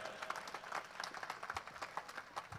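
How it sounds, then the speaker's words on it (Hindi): Applause from the audience at a live stage show, a dense, steady patter of many hands clapping throughout, fairly far off, with faint voices mixed in. "राम काका तालियां बजाओ"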